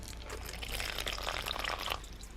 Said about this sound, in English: let's go ahead and fill it up with some water